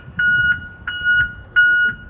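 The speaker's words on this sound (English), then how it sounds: "Backup alarm is working." A truck's backup alarm beeps during a pre-trip inspection, three steady, evenly spaced electronic tones, each lasting about a third of a second, loud and close over a low background hum.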